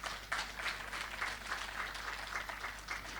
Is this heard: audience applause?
yes